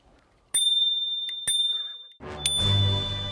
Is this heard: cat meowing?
no